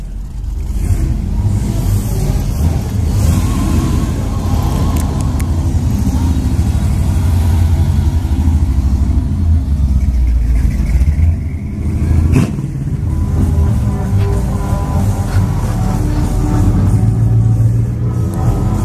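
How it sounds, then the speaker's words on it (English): A red Oldsmobile convertible cruises past on a brick street at a Saturday night cruise, its engine a steady low rumble with a brief rev swelling partway through, set against continuous crowd and traffic noise. "Last cruiser on the bricks. It's a red Oldsmobile convertible."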